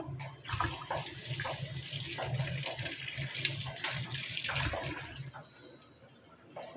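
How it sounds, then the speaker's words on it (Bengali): Tap water runs steadily into a pot as rice is washed, a continuous splashing gush with small irregular sloshes and clinks close by. "চলো ভাতটা ধুই"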